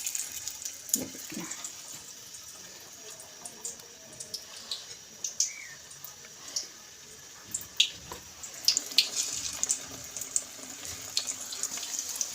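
Cucumber pakoras sizzling in hot oil, a steady soft crackle with scattered sharp pops and spits building toward the end, close by with no talk.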